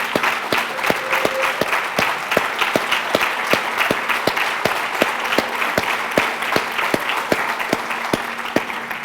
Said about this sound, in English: let's honor them with a round of applause for the hard work that they did